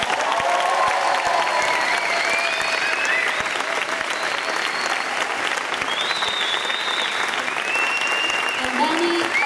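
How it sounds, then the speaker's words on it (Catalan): An audience at an outdoor rock concert camp in Macedònia applauds the band, sustained loud clapping from a crowd with scattered whistles and cheers throughout. "us demanem un fort aplaudiment pels músics de Macedònia"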